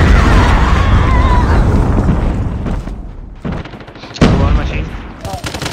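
A predator missile strike explodes in the mobile shooter COD Mobile, a loud dense booming blast with heavy rumble in the opening seconds, fading into crackling gunfire and a second sharp impact near the end, with voices underneath.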